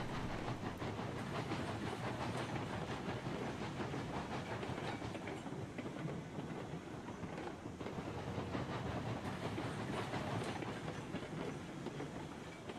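Steam locomotive in the video game Railroads Online, a continuous dense chuffing rumble with rapid clattering and hiss, steady and fairly faint for the whole stretch.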